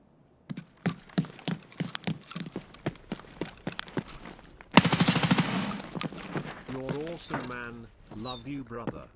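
Sharp, evenly spaced single gunshots in Escape from Tarkov, loud and close, followed by a dense automatic burst, then voices speaking over the fading noise.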